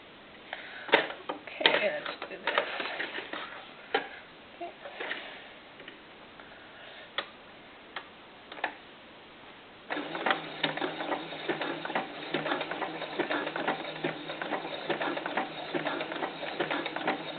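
A sewing machine stitching a knit fabric shoulder seam jams and stutters, giving irregular ticks and short bursts, then settles into a steadier rapid mechanical whir for the last several seconds.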